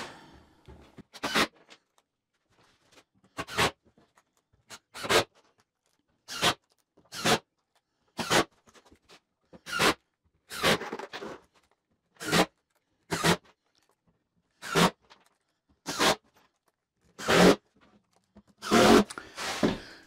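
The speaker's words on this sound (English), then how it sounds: "Just put a few screws in." A power driver sets screws into the bed of a Vardo gypsy wagon, giving about fifteen short, buzzing bursts separated by brief pauses, close and clear.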